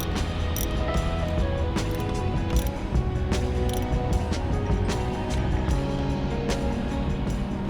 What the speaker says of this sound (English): Go around in a circle and tighten them down evenly.